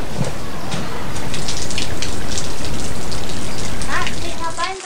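Heavy rain pours outside, a loud constant hiss of drops striking surfaces, with a brief voice faintly under it near the end.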